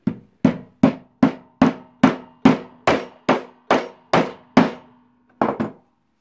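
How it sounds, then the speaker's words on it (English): Metal insert nut being hammered into a drilled wood hole: about thirteen sharp, loud blows in an even rhythm, close by, followed by a short pause and two final quicker taps. "So should be able to hammer this in now."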